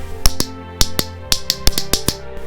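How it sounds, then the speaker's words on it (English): Sharp, bright clicks snap in quick irregular bursts, about a dozen in all, close and crisp, like a small metal toy clicker. "Perhaps a clicker to drive our parents crazy."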